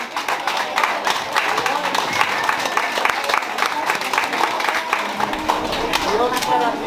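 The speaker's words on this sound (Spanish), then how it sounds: "Ahí les pido un aplauso también al señor" Applause from an audience at a patronal feast with the Hincada dance in Guadalcázar, San Luis Potosí, a steady wash of clapping and crowd noise running throughout under a busy, reverberant outdoor atmosphere.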